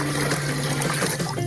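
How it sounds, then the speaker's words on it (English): Filtered salt water pouring into a big cauldron, a steady, loud rush of liquid that continues without a break for the whole moment, with no talking. "We're gonna pour it all into our big cauldron"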